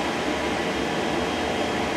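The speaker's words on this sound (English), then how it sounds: "I love freight trains." A freight train rolls past in Devon, England, making a continuous, even rumbling roar of wheels and wagons that stays steady and fairly close throughout.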